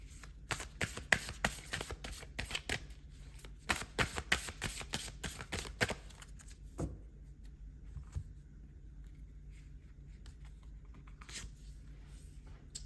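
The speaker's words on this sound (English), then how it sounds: "So let's pull more cards." Tarot cards shuffled by hand in a quiet room, a rapid riffle of crisp paper slaps for about six seconds, then sparser soft card taps and slides fading toward near silence.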